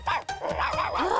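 A cartoon dog lets out a quick run of high, yappy barks and yips, close and fairly loud, over about a second with brief gaps between calls.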